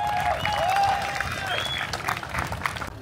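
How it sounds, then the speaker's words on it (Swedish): Crowd applause mixed with cheers and whistles at the Vallåkraträffen car show in Sweden, greeting the first-place winner and his Volvo V70/C70; steady, dense clapping that fills the clip before cutting off at the end. "Kom ut här och ta emot folkets jubel!"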